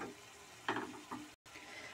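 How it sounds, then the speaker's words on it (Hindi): Tomato and onion for a matar makhana curry sauté slowly over low heat in a pan, a soft continuous sizzle with a couple of brief stirring scrapes, close and without speech. "टमाटर को भी हम धीमी आंच पे भून लेंगे"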